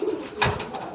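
Female racing pigeon that has laid eggs and is brooding them, giving a short coo with a soft, low warble, close by against a quiet background.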